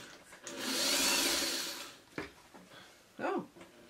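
A vintage sewing machine runs in a smooth whirring burst for about a second and a half, then stops, followed by a few faint clicks and handling sounds, quiet and close.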